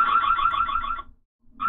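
Siren from a Ring Spotlight Cam Battery (2019) security camera, a loud electronic wail that holds for about a second, cuts out briefly, then starts again.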